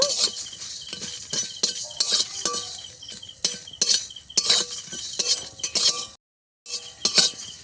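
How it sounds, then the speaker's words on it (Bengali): Dry whole spices, cumin and coriander seeds, rattle and tick against a hot wok over a wood-fired stove as they're stirred, in uneven bursts of clinks, with one brief pause near the end. "গোটা মশলাগুলো ভেজে নেব"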